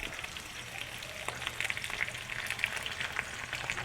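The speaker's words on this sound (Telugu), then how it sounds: "ఇది మాత్రం ఆయిల్లోనే గోగాకుని మొత్తం బాగా వేయించుకోవాలి" Gongura (sorrel) leaves frying in a generous amount of oil in a pan, a faint steady crackling sizzle with light stirring, heard from a little distance.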